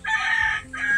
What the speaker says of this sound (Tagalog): Yun, manok.